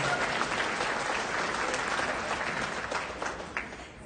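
Audience applause fills the room at a charity auction during an animal shelter's Fur Ball gala, steady and sustained clapping from a sizable crowd throughout, fading only slightly near the end.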